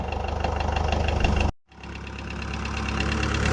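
A 1967 Minneapolis Moline Jet Star 3 gas tractor engine idles close by with a steady rhythmic chug, briefly cutting out before resuming at the same even idle.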